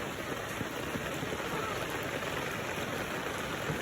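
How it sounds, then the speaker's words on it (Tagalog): Heavy typhoon rain pours steadily in a dense, hissing wash with no pauses. "lakas ng ulan"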